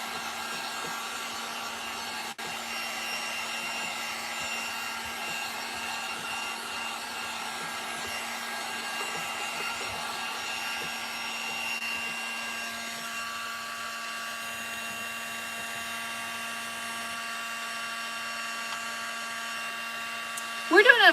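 Hair dryer blowing over a coat of hairspray on styrofoam stars, a steady close whooshing hum that runs unbroken for the whole stretch and ends with a brief clatter.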